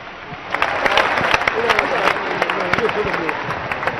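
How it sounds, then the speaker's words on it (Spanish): A large crowd at an outdoor evangelical healing crusade in Colombia breaks into steady, dense clapping mixed with cheering voices, continuous and fairly loud throughout. "Ahora vamos a dar un aplauso para este Señor que ahora está caminando."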